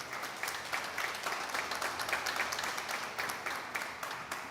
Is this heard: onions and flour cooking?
no